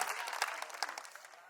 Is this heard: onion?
no